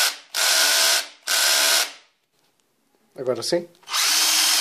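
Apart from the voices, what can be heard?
removing the screws that hold the ignition coil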